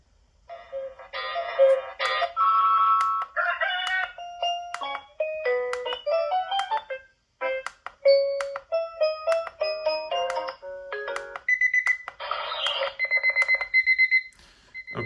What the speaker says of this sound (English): if I tap this button here, I'm gonna cycle through the different alarm ringers